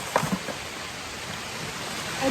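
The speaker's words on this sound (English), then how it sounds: "it's raining a lot. Kiwi vines do a good job of keeping out the rain, but it's like torrential" Torrential rain pouring down onto kiwi vines, a dense, steady hiss of falling water that stays close and even throughout, broken only by a few faint knocks near the start.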